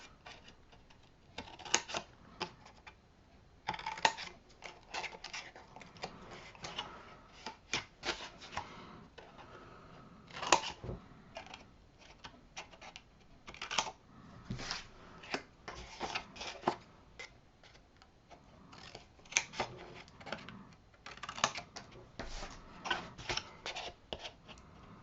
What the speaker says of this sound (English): we're going to cut out the corners again.